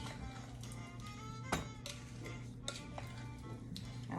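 Berry cobbler mixture is stirred in a bowl, giving a soft, steady scraping and swishing with occasional light taps of the utensil against the side.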